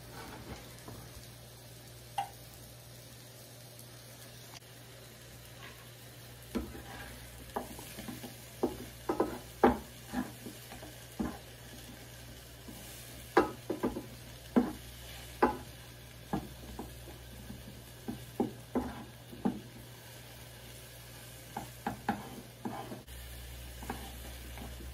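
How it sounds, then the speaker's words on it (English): Mushrooms cooking in a pan for a mushroom onion burger give a steady low sizzle, broken by repeated sharp clinks and scrapes of stirring that come in clusters, close by and with no talk. "So here I'm adding in some mushrooms, you know, I just wanted to zhuzh it up a little bit and make it a mushroom onion burger."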